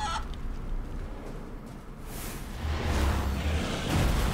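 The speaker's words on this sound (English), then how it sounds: "Chicken." A chicken clucks in short bursts amid the clatter of combat in the fantasy role-playing game Divinity: Original Sin 2, set over a steady rumbling game soundscape.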